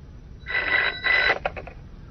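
A telephone rings in two short bursts of bright electronic trilling, followed by a brief clatter, with quiet background otherwise.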